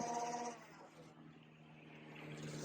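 Flywheels in an AF Monolith foam blaster spin up, a sustained whirring motor whine that dips in the middle and rises again toward the end, recorded fairly faint and close.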